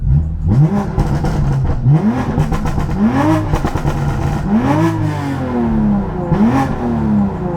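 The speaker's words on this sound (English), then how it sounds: "It only does burble sometimes. Like after, You know? once you like rev it." A 700 hp BMW F80 M3 running on E85 with a loud exhaust blips repeatedly, each sharp rev sweeping up and falling away into popping burbles, close and prominent throughout.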